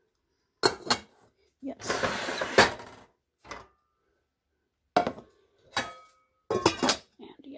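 Gotham Steel cookware being unpacked, with lids and pots knocking and clinking in short separate bursts between quiet pauses, close up, and a brief spoken word.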